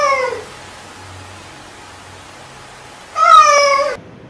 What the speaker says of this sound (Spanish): El gato Michín.